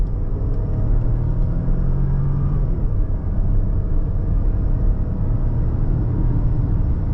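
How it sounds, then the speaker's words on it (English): Peugeot 3008 Hybrid GT with a 3-cylinder engine accelerating at full throttle on kick-down, a steady low droning thrum heard from inside the cabin, continuous and moderately loud with no talk. "it's got that nice 3-cylinder thrum to it"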